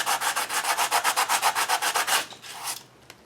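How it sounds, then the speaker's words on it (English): Coarse, well-worn sandpaper rubbed over the ridges of altered book pages, about fifteen quick rhythmic back-and-forth scratchy strokes close up, then a few softer passes before stopping. "I'm going to bring in some well-loved coarse sandpaper, and I'm just going to hit the ridges a little bit."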